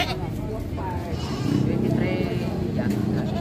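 Goats bleat at a livestock market in Padre Garcia, Batangas, their calls rising amid steady crowd chatter and someone talking nearby.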